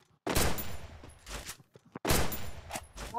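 Bursts of MP5 submachine-gun fire in a shooting video game, two loud rapid volleys separated by short gaps with a few single shots between, heard alone with no talk.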